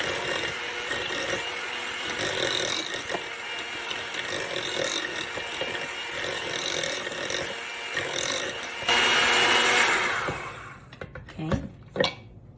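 Kool-Aid powder and a couple tablespoons of sugar are mixed into cream cheese pie filling, giving a steady whirring hum with scraping that keeps going for about nine seconds, then a louder burst before it stops, leaving a few short clinks and knocks.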